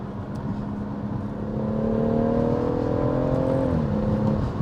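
A BMW M140i hot hatch accelerating hard through gear changes, heard from inside as a loud, steady engine drone whose pitch climbs and then drops at a shift, with no talking.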